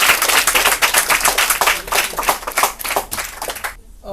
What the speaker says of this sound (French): Oui, on applaudit Soumaya.